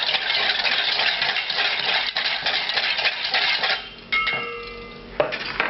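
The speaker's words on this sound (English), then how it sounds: "Whisk in the cream." Cream being whisked into a sauce in a pan off the heat, for a French chicken fricassee in cider: steady, close metallic whisk scraping and clinking throughout, with a brief pause and a louder clink near the end.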